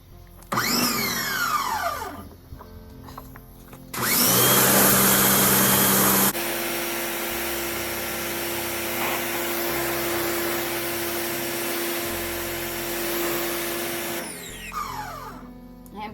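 A Sun Joe 2300 psi electric pressure washer motor starts after a few handling clunks, whining loudly for a couple of seconds before settling into a steady, close hum with a constant tone that runs until it stops near the end.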